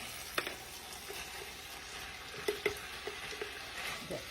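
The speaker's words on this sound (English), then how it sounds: "I'm going to go ahead and dump this pasta in." Cooked pasta tipped into a hot pan of sloppy joe mixture for a casserole, giving a low steady sizzle with a few soft wet thuds and scrapes as it lands and settles, close by, with no talking.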